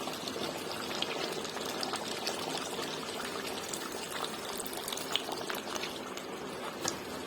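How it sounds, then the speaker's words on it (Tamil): Ground coconut milk being poured into a simmering crab pepper gravy, a steady close liquid pour and bubbling running evenly for several seconds with no talk. "இப்ப இந்த ஸ்டேஜ்ல நம்ம அரைச்சி எடுத்து வச்சிருக்க தேங்காய் பாலை இதுல ஆட் பண்ணிக்கலாம்."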